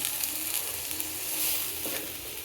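Chillies stuffed with filling and pinned with wooden toothpicks fry over low heat in a little oil, giving a soft, steady, even sizzle up close with no voices.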